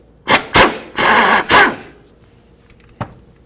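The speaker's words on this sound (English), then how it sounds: "Let's go ahead and remove this pulley." A power tool removes a serpentine belt idler pulley on a 2007-2017 Ford Expedition, with four loud, close whirring bursts over about two seconds, then quiet and one short final burst.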